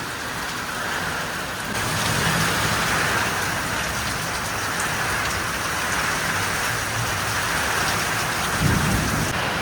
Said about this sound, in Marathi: पत्र्याचा आवाज ऐका ना, एवढा भयंकर पाऊस.